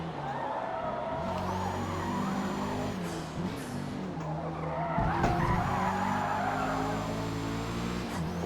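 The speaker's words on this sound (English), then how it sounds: "I'm gonna purposely overdrive the front tires" A Mazda 323 in the Forza Motorsport racing game, its overdriven front tires skidding and squealing for several seconds over a steady engine drone, loud and continuous without talk.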